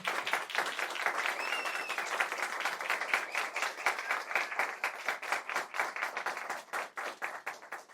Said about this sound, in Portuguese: uma salva de palmas para o Renatão.